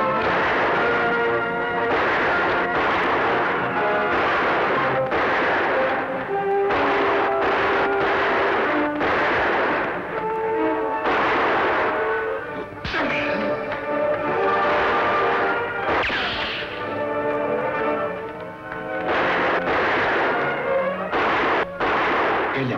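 Gunshots in a Spanish-language Lone Ranger radio western drama: repeated loud shots and ricochet-like cracks ring out over dramatic orchestral music, coming in irregular bursts throughout.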